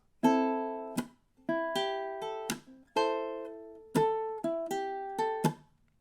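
Ukulele playing the first two measures of a song as a steady, syncopated run of about ten strummed chords, with crisp attacks, short muted gaps and a percussive backbeat feel. It is close and unaccompanied, with no voices.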